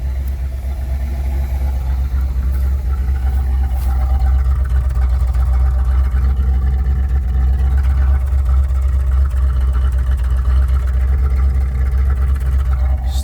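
A 1977 Pontiac Trans Am V8 idles at about 1,000 rpm with a slight misfire and exhaust leak, giving a loud, steady, deep rumble that continues unbroken and without speech.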